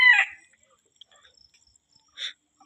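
Texas-breed gamecock roosters give a short raspy call at the start, then a quieter single cluck-like note about two seconds later, both faint and close against near silence.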